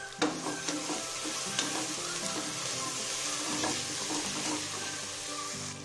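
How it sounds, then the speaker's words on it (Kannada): Ground masala fries in oil for hotel-style pulav, a steady close sizzle with scraping stirs of a spoon against the pan. "ಈ ಮಸಾಲೆ ಕೂಡ ಈ ಎಣ್ಣೆ ಜೊತೆ ಚೆನ್ನಾಗಿ ಫ್ರೈ ಆಗಲಿ."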